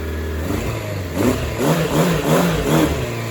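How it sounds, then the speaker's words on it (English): A Suzuki GSX600F motorcycle engine idles, then revs up in several quick bursts, each rising and falling in pitch, loud and close. "and revving up much higher."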